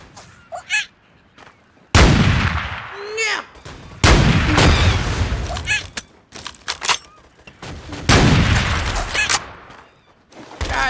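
Loud, close bursts of gunfire erupt repeatedly in the video game Apewar, each volley ringing out amid squawking game sounds, with short quieter gaps between them.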